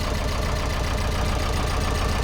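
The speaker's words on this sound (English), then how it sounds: "It's an old 2-cylinder Volvo Penta, really old one." An old 2-cylinder Volvo Penta MD2 engine idles in a traditional Dutch skûtsje boat, a steady, loud, close chugging drone with a low knocking pulse.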